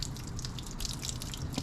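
Water under rainwater pressure flowing into a caravan water tank. A steady, even gush and splash runs the whole time with no voices.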